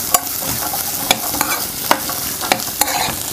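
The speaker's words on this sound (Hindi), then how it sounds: "ये जो हमने कैरेट और रेडिश काट के रखी है छोटी छोटे पीसेस में, उसको फ्राई कर लेंगे।" Small pieces of carrot and radish fry in a pan, with a steady close sizzle punctuated by sharp, regular spatula taps and scrapes against the pan.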